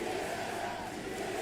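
A crowd at an ALGS Apex Legends watch party roars in a brief, dense burst of cheering and shouting, filling the room without a break.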